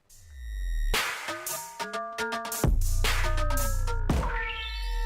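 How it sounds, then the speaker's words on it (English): Ring modulation synth tones with sharp attacks, gliding metallic harmonics that sweep up and down, sustained buzzy notes in between, played alone with no voices. "That sound was ring mod."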